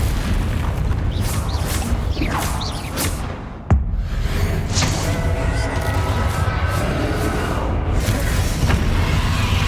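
A spell cast at Ranrok in the Hogwarts Legacy game bursts out as a sudden loud boom and crack amid a dense, roaring din of battle effects and whooshes.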